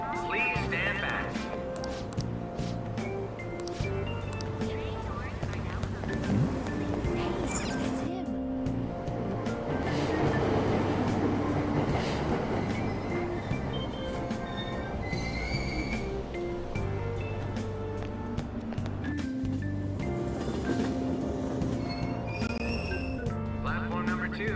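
A subway train in the Persona 5 Royal video game pulls away from a platform at Aoyama Itchome, with a steady rumbling run, wheel squeal and an announcement voice, under music and continuous game sounds.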